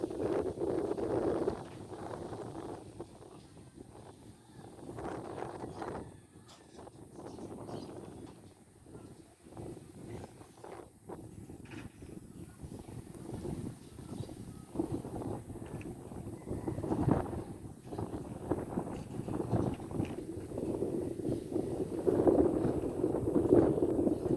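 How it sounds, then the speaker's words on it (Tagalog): Outdoor wind buffets the microphone in uneven gusts, a low rumbling rush that rises and falls throughout, with no voices. "Umihip yung hangin."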